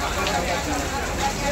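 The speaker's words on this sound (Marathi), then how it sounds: "जाम पाऊस पडते." Heavy rain pours down at a hilltop temple, a dense, steady hiss of drops striking surfaces at moderate level, continuous and unbroken over the short span.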